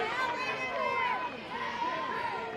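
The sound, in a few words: softball crowd in Gainesville reacting with displeasure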